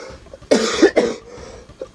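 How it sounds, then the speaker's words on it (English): A sick man coughs twice in quick succession, two harsh, close bursts, with a faint throat sound trailing after. "Oh, man, I got a cough."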